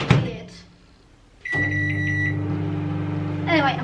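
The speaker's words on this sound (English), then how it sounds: "I'm putting that into the microwave for 2 minutes." A microwave oven starts with a click and then hums steadily for a couple of seconds, with a brief voice at the start and another at the end.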